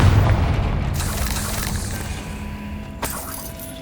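A Confringo fire spell blasts in Hogwarts Legacy, a deep booming explosion that hits at once and rolls away into a long, fading rumble, followed by a short sharp crack near the end.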